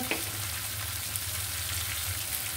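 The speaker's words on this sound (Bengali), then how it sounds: "পেঁপেটা আমি ভালোভাবে কষিয়ে নিয়েছি।" Papaya sautéing with spices in a hot pan, a steady close sizzle with faint stirring, no voices.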